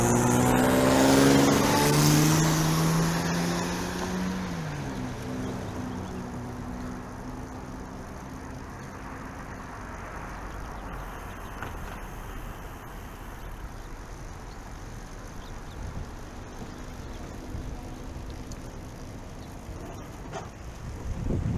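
A car comes up from behind on a road during a recumbent bike ride, a loud passing engine and tire roar at first that fades into steady wind noise, with another rise of approaching traffic at the end.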